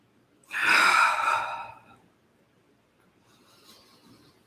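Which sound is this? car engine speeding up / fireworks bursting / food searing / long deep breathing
long deep breathing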